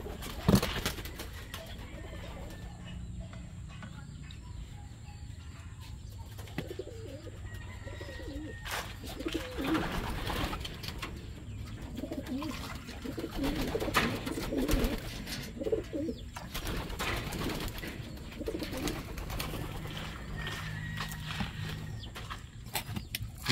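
Young pigeons in a loft cooing softly and repeatedly, low throaty calls overlapping one another, with scattered shuffling and light background noise throughout.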